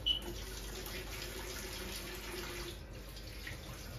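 Tap water runs steadily over pumpkin flowers being washed, a faint continuous hiss with no talking.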